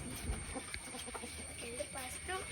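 Soft clucking from chickens, quiet and a little distant, with faint background noise and a bit of murmured voice.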